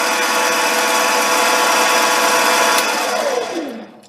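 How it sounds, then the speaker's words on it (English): A small mini lathe hums steadily as a drill bit peck-drills in and out with a faint grinding whine, then the motor winds down at the end. "Silent peck drilling, if you want to call it that, which is going in and out,"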